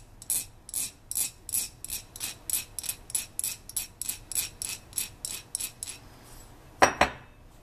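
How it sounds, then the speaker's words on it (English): Metal file rasping across the cut end of a steel output shaft for a SumoBot gearbox, about twenty even back-and-forth strokes, close and crisp, ending with a brief clatter. "You're going to need to take a file and file down the edges of where you cut your shaft."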